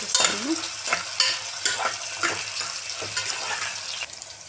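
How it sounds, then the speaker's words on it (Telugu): Mustard seeds, cumin, green chilies and chopped onion fry in hot oil for a Telugu chana dal curry, a steady crackling sizzle broken by repeated stirring scrapes and a few clinks, with no talking. "కొద్దిగా ఆవాలు కొద్దిగా జీలకర్ర ఒక మూడు పచ్చిమిర్చి జీలకర్ర అలాగే ఒక ఉల్లిపాయ తరుగు ఇది ఒకసారి ఫ్రై"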